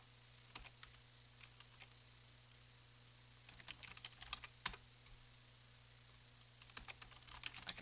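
Quiet computer keyboard typing as Python code is written, scattered bursts of soft key clicks with pauses between, close and faint over a low steady hum.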